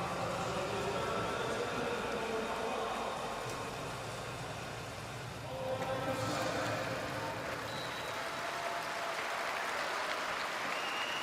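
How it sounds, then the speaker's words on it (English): Crowd applause at the Baku 2015 3m springboard diving preliminaries, a broad steady wash of clapping in a large venue for an Azerbaijani diver, dipping briefly midway before swelling again and continuing to the end. "Pikovskaya getting a good, encouraging round of applause for Azerbaijan."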